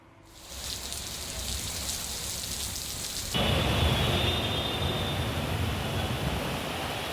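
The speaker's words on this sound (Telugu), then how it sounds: "రాజేంద్రనగర్లో భారీగా వర్షం కురుస్తోంది" Heavy rain pours down in Rajendranagar, Hyderabad, a dense, steady roar of drops on surfaces that swells in loudness partway through and keeps going without a break.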